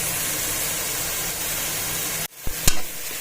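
Onion, tomato, green chili and ginger-garlic paste masala sizzles steadily in a hot pan for a couple of seconds, then the hiss drops away and a few sharp clanks of a stirring utensil follow, close and loud.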